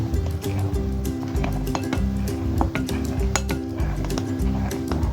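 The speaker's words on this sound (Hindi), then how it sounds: "इसको आपने चम्मच से ही मिक्स करना है।" A spoon stirs flour into fruit cake batter in a bowl, giving continuous close scraping and wet mixing with frequent bright clinks of metal on the bowl and a low hum behind.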